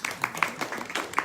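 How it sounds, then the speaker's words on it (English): Brief, light applause rises from a small gathering at a Hare Krishna chanting event in Ecuador, a handful of uneven claps heard fairly close over little more than a second. "Let's give him a big applause."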